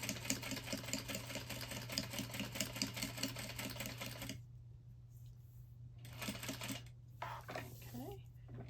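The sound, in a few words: sewing machine stitching across the bottom of a bag pocket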